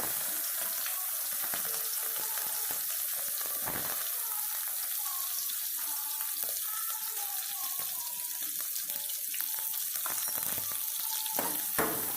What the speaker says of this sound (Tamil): கடுகு நல்லா பொரிஞ்சதுக்கப்புறம் வெங்காயம், கருவேப்பிலை சேர்த்துக்கலாம்.